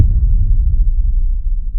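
A deep boom transition effect from the UVI Meteor FX library, a heavy low rumble that starts with a hit and decays slowly for nearly two seconds, with no voices present.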